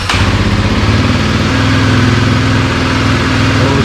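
A 2021 Kawasaki KLX300 motorcycle fires up and settles straight into a loud, steady, close idle with an even rumble throughout; no talking.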